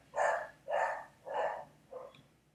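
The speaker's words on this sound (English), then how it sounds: "Can you hear my dog?" A dog barks at a knock on the door, four loud, evenly spaced woofs close by, the last one shorter and softer, with no talk over them.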